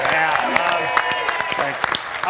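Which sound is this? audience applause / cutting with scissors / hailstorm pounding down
audience applause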